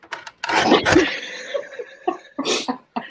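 A sudden sneeze bursts out close to the microphone during a relaxed craft podcast, followed by a few shorter breathy vocal noises.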